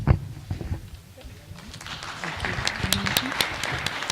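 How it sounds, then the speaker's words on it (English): Sparse, scattered golf clap from a school board of education meeting audience, a few hands patting out uneven claps that thicken slightly toward the end, with voices murmuring underneath. "There's that golf clap again."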